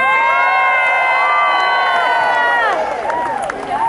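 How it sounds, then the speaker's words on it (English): A large outdoor crowd at a Canada 150 citizenship celebration cheers and whoops loudly for several seconds, a dense sustained roar of many voices that gradually tapers off. "Please cheer if you were born somewhere else."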